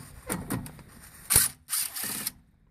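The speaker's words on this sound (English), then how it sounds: "Then I got to take these two Phillips screws out on this Kia." An impact driver removes two Phillips screws from a Kia rear brake rotor, giving a few short, close bursts of rattling whirr with quiet gaps between, and no talking.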